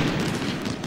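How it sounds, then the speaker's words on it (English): Musket gunshots and artillery fire in an Ultimate General American Civil War battle, a brief, dense rumble of volleys and booming cannon over continuous battlefield noise. "Some nice gunshots there, artillery shots"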